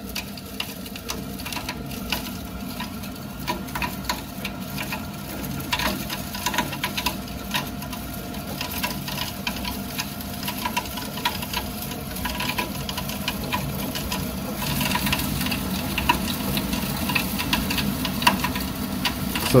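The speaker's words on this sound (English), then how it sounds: "So you can clearly hear that pump is not good." A faulty circulating pump in a Viessmann Vitodens 50W boiler gives off a steady, harsh mechanical rattle and whir, running continuously and growing slightly louder toward the end, with no talk over it.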